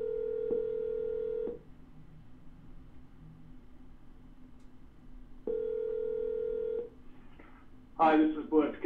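A phone number is dialed for a real estate call, heard as two bursts of steady telephone tones separated by quiet line hiss, with a brief voice-like sound at the very end.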